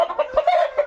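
Chickens clucking in a backyard coop at evening as they settle in, a run of short, close, repeated clucks with no talking.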